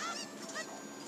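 A Cuckoo chicken in the video game Zelda Ocarina of Time 3D gives a couple of quick, faint squawking clucks over a soft steady background.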